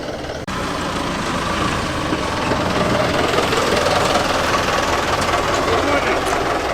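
A classic Ford car idling at an outdoor classic car meet in Lancashire, a steady loud engine rumble close by that holds constant throughout.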